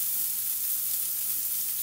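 Chopped onion sizzles and fries steadily in hot oil with cumin seeds, a dense, close, continuous hiss with no voices.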